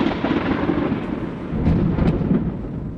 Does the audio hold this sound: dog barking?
no